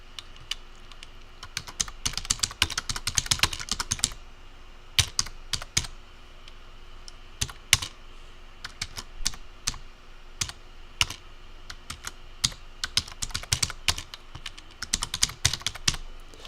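Keywords typed on a computer keyboard, close and clear, with rapid clattering runs of keystrokes broken by short pauses and no speech.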